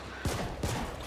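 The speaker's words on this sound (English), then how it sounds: "From that explosion." Two quick, close booming blasts from an explosion in the cyberpunk video game The Ascent, each a short burst with a rumbling tail.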